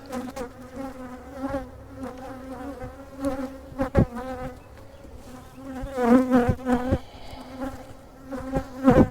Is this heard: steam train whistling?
no